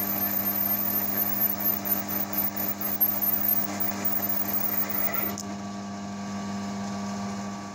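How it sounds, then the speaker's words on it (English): A metal lathe power threads a 5/16 AF brass bar turned down to 3/16 with a split die at 200 RPM, a steady motor whine with pulsing cutting chatter that smooths into a plain hum as the cut ends. "Power threading at 200 RPM."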